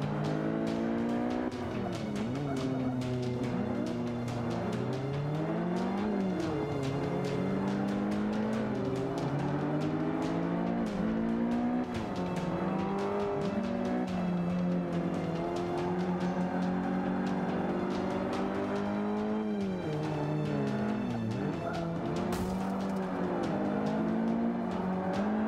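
A race car in Forza 5, heard from the in-car view, with a continuous engine drone that rises and falls through gear changes, plus occasional tire squeal, steady and close with no talk.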